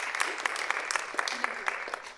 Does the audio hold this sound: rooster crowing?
no